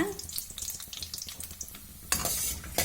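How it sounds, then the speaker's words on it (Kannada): Dry fruits frying in ghee in a pan for butter fruit halwa, a steady crackling sizzle with repeated stirring scrapes, and a louder burst of frying near the end; no voices. "ಡ್ರೈ ಫ್ರೂಟ್ಸ್ ಫ್ರೈ ಆದ ಪ್ಲೇಟ್ಗೆ ತೆಗೆದುಕೊಳ್ಳೋಣ"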